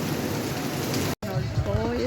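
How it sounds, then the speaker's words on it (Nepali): Rain falls as a steady, close hiss. It cuts out for a moment, then resumes, and voices come in over it. "आज त झन् भगवान पानी पर्नु थाल्यो"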